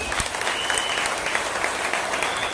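An audience claps in dense, sustained applause, loud and close, for a short burst with no talk over it.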